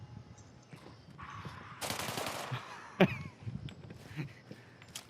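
Gunfire in a video game: a rapid burst of automatic shots followed by a sharp single crack and a few scattered later pops, moderately loud against a low background.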